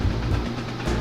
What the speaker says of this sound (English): there is a double-headed train full of steel